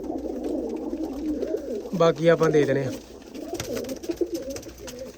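A racing pigeon from Amritsar, kept with champion flying birds, coos in a loud, close burst of throaty, wavering calls, with people talking nearby before and after.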